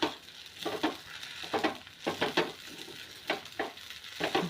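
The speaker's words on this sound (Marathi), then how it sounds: "एकसारखी परतत राहायची खिचडी सगळ्या बाजूने" Soaked sabudana khichdi is stir-fried in a pan, with a steady sizzle broken by repeated scraping strokes of a spatula roughly every half second. The stirring is close and clear, with no voices.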